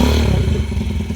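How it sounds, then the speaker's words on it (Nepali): A modern motorbike engine revs loudly and close up, a dense steady roar with clattering mechanical texture over a short burst. "viral bike"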